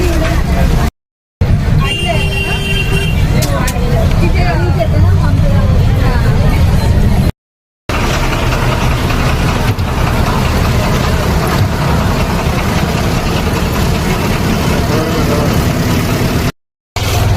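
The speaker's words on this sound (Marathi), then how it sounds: "दाभोळ गाडी आता आली आहे गर्दी खूप आहे" A crowded bus bound for Dabhol rumbles nearby with a deep, steady engine drone, while a babble of voices from the packed crowd runs underneath and people talk over it; the sound cuts out briefly a few times.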